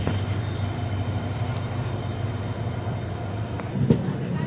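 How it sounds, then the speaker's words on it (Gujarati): A train standing at a busy station platform gives a steady low rumble and hum, with a brief clank near the end; no talk is heard over it. "તો ફાઇનલી ટ્રેન આવી ગઈ છે, તમે જુઓ."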